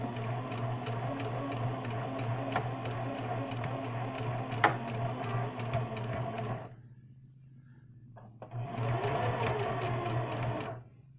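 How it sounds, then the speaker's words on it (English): A sewing machine run by foot pedal stitches in a steady, fast mechanical whir, stops briefly for a near-silent pause, then starts up again at the same loud, close level. "I forgot I'm sewing with my left foot today."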